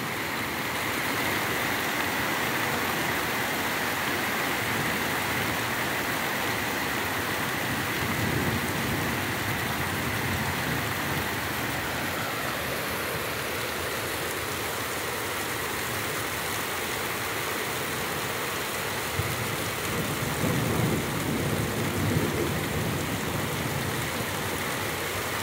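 Heavy city downpour pouring steadily as a dense, constant hiss of rain on streets and surfaces, with a faint engine rumble beneath and a couple of louder bursts later on.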